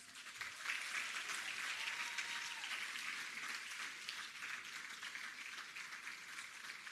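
An audience keeps up a steady, even applause at a Ministry of Education and Youth PEP scholarship awards ceremony, many hands clapping continuously at moderate loudness with no break.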